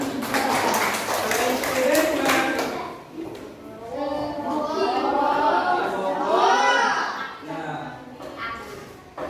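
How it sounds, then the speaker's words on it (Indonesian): Schoolchildren in a classroom clap in a brief rhythmic burst at the start, then children's voices and chatter fill the room at close range while the clapping fades out. "Ya, tepuk tangan."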